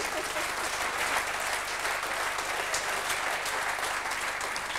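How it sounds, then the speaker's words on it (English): An audience claps throughout, a dense, steady round of applause from a crowd, fairly loud and continuous with no voices standing out. "Give a little clap for that."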